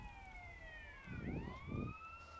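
Police sirens in GTA San Andreas wail in several overlapping tones that sweep and converge as the cars arrive, with two bursts of low rumbling game noise beneath them.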